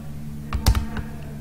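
A few keystrokes on a PC keyboard while working in Microsoft Word, a short cluster of close plastic clicks with one louder press in the middle, over a low steady hum.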